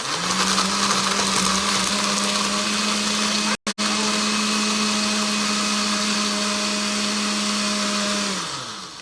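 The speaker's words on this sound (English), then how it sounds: "we're gonna whirl that up in the blender and see how it crushes ice" A $30 Oster blender crushing ice runs loud and continuous at high speed with a steady whine, briefly cutting out once, then whirring on before winding down at the end.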